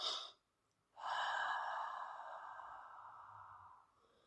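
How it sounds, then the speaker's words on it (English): A person breathing in a calming exercise: a short sharp inhale through the nose, a pause, then a long, steady, gradually fading exhale through the mouth, close and soft with no talking. "taking 2 inhales through your nose and then breathing out an extended exhale through your mouth"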